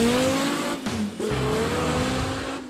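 A 2014 Dodge Viper TA twin turbo, fully built and tuned, revs loudly up close in a few surging pulls with pitch rising and dropping between shifts, and the exhaust note fades at the end.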